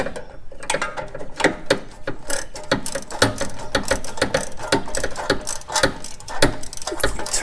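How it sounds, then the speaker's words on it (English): A ratchet tightens the muffler bolts on a 2006–2011 Honda Civic exhaust, giving loud, close, rapid clicking in quick bursts that continues throughout without talk. "I'll go ahead and tighten this side up a little bit."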